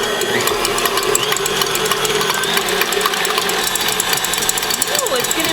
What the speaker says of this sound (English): Help if I plug in the mixer.